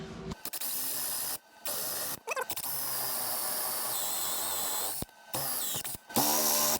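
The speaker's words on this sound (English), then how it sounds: "we're just going to basically drill her out." A power drill whirs loudly up close in long continuous bursts drilling out a rusted bolt on a 1955 VW panel van, cutting out briefly a few times before spinning up again.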